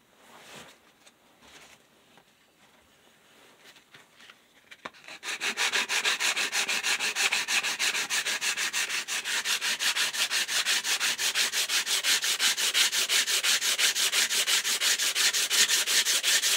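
Steady, continuous sanding of wood, a loud rhythmic rasping that starts after a few quiet seconds of light handling noises and keeps going to the end.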